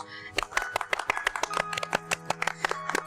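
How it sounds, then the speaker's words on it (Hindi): Clapping breaks out at a ring ceremony during an engagement rite, with a rapid run of sharp, uneven claps over a steady tonal background. "आबद बेटी, तुम भी बजा लो तालियां।"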